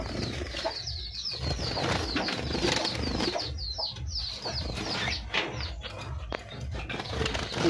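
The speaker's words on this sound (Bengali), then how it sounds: "খুব ছটপট করছে পাখিগুলো" Caged lovebirds fluttering restlessly, with continuous wing flapping and rustling alongside busy chirps and calls, close and fairly loud throughout with no talk.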